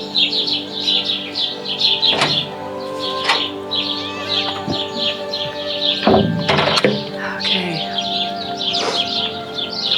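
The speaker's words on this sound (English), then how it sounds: "Birds are up, obviously. I'm sure you can all hear that." Morning birdsong along the last 100 km of the Camino de Santiago, with several birds chirping and calling in repeated bursts, close and clear over a quiet background.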